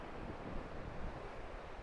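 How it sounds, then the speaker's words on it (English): Water rushing through a dam on the Caloosahatchee Canal in Florida on a windy day, a loud, steady broadband roar mixed with gusting wind buffeting the microphone. "It is windy and this water rushing is very loud"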